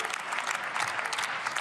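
Sustained applause fills a session of the German Bundestag during a debate on affordable, climate-friendly mobility, a dense, steady clatter of many hands clapping with no voices above it.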